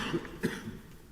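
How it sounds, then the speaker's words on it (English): A courtroom advocate coughs during oral argument, a few faint, muffled bursts close to the microphone with no speech around them. "You'll have to proceed despite my cough."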